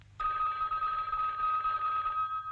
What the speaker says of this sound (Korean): 호텔 방으로 걸려온 전화.